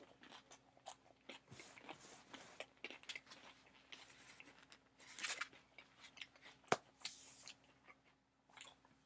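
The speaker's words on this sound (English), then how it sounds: "you're gonna accept watching me eat a taco" Someone eats a taco-flavored Dorito chip, giving faint, scattered crisp crunches and bites close to the mic at a quiet level, with no talking.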